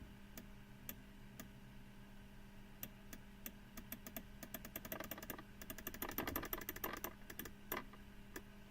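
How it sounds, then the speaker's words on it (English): A computer mouse clicks during Geometry Dash play, quiet sharp ticks that come sparsely at first, then cluster into rapid bursts midway before thinning out again. "you can hear my mouse clicking"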